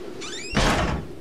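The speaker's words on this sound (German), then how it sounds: "Alter, wie der die Tür zuzieht, wa? Wie so ein... Überhaupt nicht leise." A door in the horror video game Outlast is pulled shut, starting with a rising squeak of hinges and ending in a heavy, loud thud, heard alone and close.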